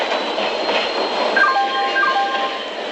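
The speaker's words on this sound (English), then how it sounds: "Passenger Express is arriving at platform number 2." An Indian Railway passenger express train pulls into a station platform with a loud, continuous rolling rumble, and faint wheel squeals come through near the end.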